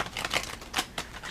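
Tarot cards from a Morgan Greer deck, handled in a waterfall shuffle, riffle in quick, light, crisp flutters and clicks, close and fairly quiet, with no voices.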